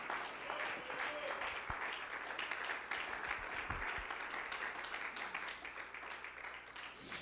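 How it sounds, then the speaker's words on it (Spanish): A church congregation applauds during a sermon, a steady wash of clapping from many hands at moderate distance, continuing without break. "Bríndele ese aplauso al Señor en esta hora."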